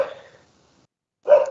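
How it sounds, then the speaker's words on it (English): Dogs barking in a room during a council committee meeting: a short burst at the start and another loud one near the end, with a silent gap between them. "I apologise for the barking dogs."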